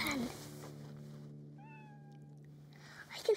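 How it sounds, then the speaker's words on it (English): Outdoors on a quiet residential road, a cat gives a single thin meow from a distance over a faint steady background hum, with a voice briefly audible at the start. "I can hear a cat meowing."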